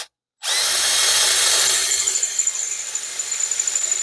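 A power drill whirs loudly and steadily after a brief silence, its high-pitched whine holding for several seconds with slight fluctuations near the end.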